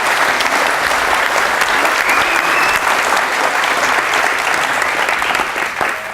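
An audience at a DC art showcase event claps steadily and loudly for about six seconds, dense sustained applause filling the room with no break.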